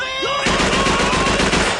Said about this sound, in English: to incessant staccato gunfire and German shouting.